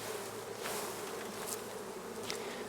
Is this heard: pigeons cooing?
no